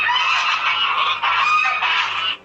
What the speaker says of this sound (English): it's a gaggle of geese, and they're coming for her